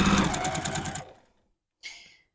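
A sewing machine stitching quilt blocks runs in a quick rhythmic chatter for about a second, close and loud, then stops; a brief separate mechanical click follows after a pause.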